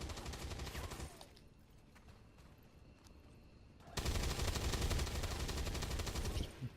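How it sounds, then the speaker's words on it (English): Machine gun suppression fire in XCOM 2 rattles in dense rapid bursts, a loud burst at the start, a quieter stretch with scattered pops, then a second sustained loud burst. "a million bullets going at it"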